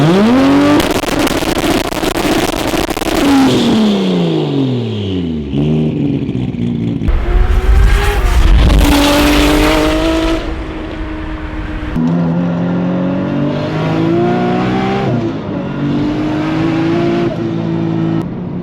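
A big-turbo Toyota Supra of about 1400 horsepower, set up for rally driving with anti-lag, accelerates hard and loud, its engine note sweeping up and down through repeated gear changes. It stays close and sustained for the whole stretch, with no talking.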